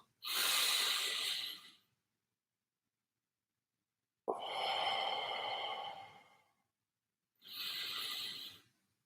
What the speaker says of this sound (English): Breathe in from your nose into your gut 3 times, but let the air, oxygen in your gut, and then breathe out.